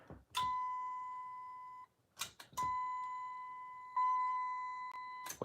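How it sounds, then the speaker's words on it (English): A working elevator fixture bell from a live parts wiring setup rings in clear sustained electronic tones, sounding about three times with short gaps, each ring steady and slowly fading before stopping abruptly. "With working bell."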